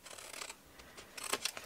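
Short scissors snip through gift bag card, a few crisp close cutting sounds with faint rustling of the card between them.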